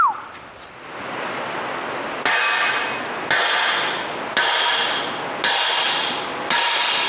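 A series of about five sharp metallic strikes of a hammer on a log splitter being modified lands at a steady, unhurried pace, each ringing briefly over a constant hiss of background noise.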